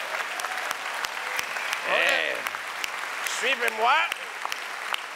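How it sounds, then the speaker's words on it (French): A comedy show audience keeps up a light patter of applause as people are brought onto the stage. Someone talks briefly over it, and whistled or vocal glides rise above the clapping. "viens-t'en, on les applaudit"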